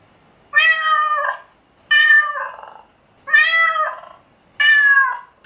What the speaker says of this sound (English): generate this cat meowing and purring sound effect